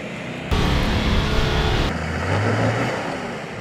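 A Toyota Hilux engine revs loudly on a hilly Tasmanian off-road track while the truck is winched back down, the roar holding steady before dropping to a lower droning rev.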